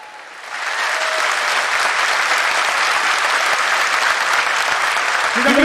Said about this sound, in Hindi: के लिए जोरदार तालियां बजाइए।